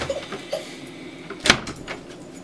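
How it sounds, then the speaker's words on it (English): A bathroom door is pushed shut with a single close, sharp knock-like thud about midway through a quiet room, with faint rustling before and after. "Can you like close the door all the way?"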